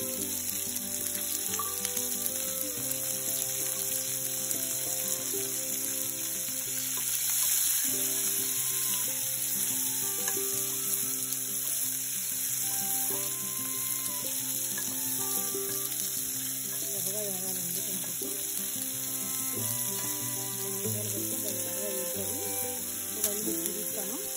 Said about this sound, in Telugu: ఉల్లిపాయలు వేగిపోయాయండి ఇలాగా